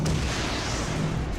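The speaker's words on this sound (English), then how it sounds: "Ballistic missile." A ballistic missile attack in the video game Final Fantasy XIV lands as a dense, loud rumbling blast that fills the short moment without a break.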